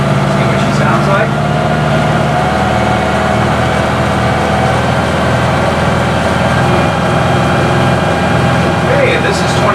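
A classic powerboat engine holds a steady 2,500 RPM, a loud, constant low drone with water and hull rumble and no pauses.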